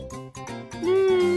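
A cat meows in a children's educational toy-play scene, a short rising then sustained meow following some brief tonal sounds, clear and close.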